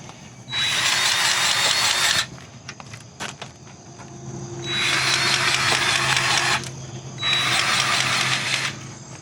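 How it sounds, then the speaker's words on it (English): Grease gun work on the backhoe and loader fittings of a TYM T25 compact tractor, heard as three long loud bursts of buzzing mechanical whirring with short quieter gaps and faint clicks between them. "I'm gonna go ahead and grease the backhoe and the loader right now"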